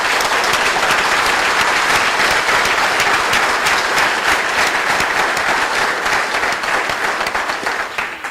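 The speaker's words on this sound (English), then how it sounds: "let's give one huge round of applause" Sustained loud applause from a banquet audience honoring four Hall of Fame inductees, dense clapping filling the room from start to finish and tapering slightly at the end, with no talk over it.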